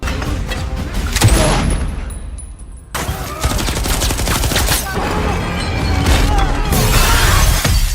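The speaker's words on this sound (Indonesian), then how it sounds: "Baku tembak kembali terjadi." Loud, dense gunfire and explosive bursts from a shootout in an action film, with a sharp shattering crash early on, a brief drop-out, then continuous heavy firing and blasts through to the end.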